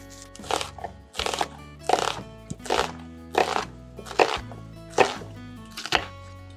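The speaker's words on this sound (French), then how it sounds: "Donc là, on va émincer l'oignon." A knife coarsely slicing a yellow onion on a cutting board, about eight crisp chopping strokes in a steady rhythm, close and clear, with no talking.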